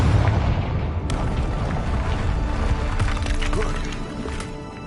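A Confringo blasting spell explodes in Hogwarts Legacy, a loud booming burst with rumbling, crackling debris that fills the whole stretch and fades slightly at the end, with no voice over it.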